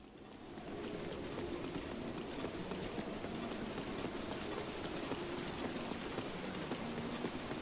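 Rain falls steadily in The Legend of Zelda: Breath of the Wild on Nintendo Switch, a continuous soft patter that fades in and then holds at a low, even level, with faint tones drifting underneath.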